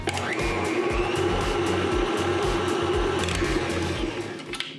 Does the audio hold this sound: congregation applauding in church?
no